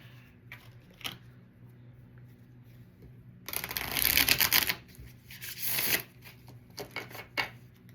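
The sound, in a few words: shuffling a deck of cards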